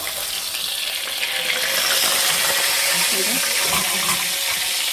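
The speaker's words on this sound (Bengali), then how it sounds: "এভাবে লাল লাল করে ভেজে নিচ্ছি" Tilapia fish frying red-brown in a pan with loud, steady oil sizzle and crackle that swells and holds throughout, close up with no talk.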